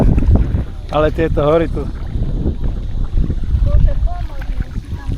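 Boat paddling on the sea during a tour of Ang Thong National Marine Park in Thailand. Steady wind and water wash continue throughout, with people talking and singing briefly over it.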